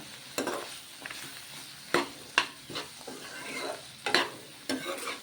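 Mutton stirred with chili powder in a pan, quiet intermittent scrapes and clatters of a spoon against metal over a faint low sizzle, spaced every second or so.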